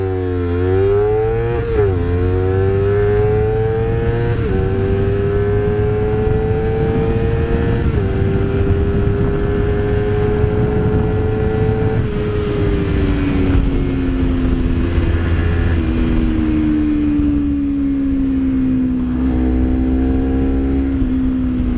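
Honda CBR250RR MC51 quarter-litre sport motorcycle, 38 horsepower, accelerating hard through the gears toward 14,000 rpm: a loud, close, high-pitched engine wail climbing steadily with brief dips at each shift, alone without talk.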